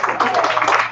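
A small crowd claps at an all-candidates debate for a municipal council election in Port Coquitlam, a steady burst of hand clapping lasting about a second, near and fairly loud.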